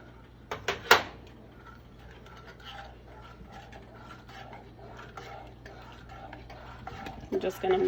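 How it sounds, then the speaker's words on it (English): A spoon clinks sharply a few times against a pot, then stirs on quietly as cocoa powder and sugar are mixed into hot chocolate on lowered heat. A few more clinks come near the end. "I'm just going to mix this all up so that it mixes in together."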